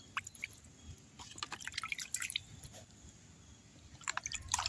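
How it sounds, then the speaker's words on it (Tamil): Light, irregular drips and soft splashes of water sprayed onto potted fenugreek plants patter close by, scattered in quick bursts with quiet gaps between. "லைட்டாக வந்து நம்ம தண்ணி தெளிச்சிடலாம்"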